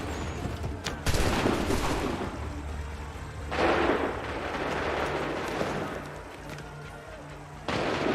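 Battle gunfire in the video game Assassin's Creed III: heavy, booming volleys and crackling musket shots mixed with shouting voices, loud and continuous with surges of blasts.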